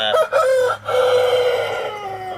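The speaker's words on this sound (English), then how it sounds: "you ever hear a Cornish cross crow? There it was." A Cornish cross rooster crows loudly and close up, a strained, raspy call that breaks partway through and then draws out into a long, hoarse note.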